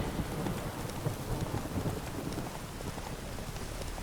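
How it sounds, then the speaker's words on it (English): Heavy rain from a weather mod in the Witcher 3 video game pours down steadily as a dense, continuous hiss at moderate level, with no voices. "So I think we have the heavy rain mod, that's why it's so pretty intense."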